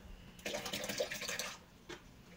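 A splash of hydrogen peroxide pours into washing machine water in a steady stream for about a second, followed by a brief small splash, quiet and close.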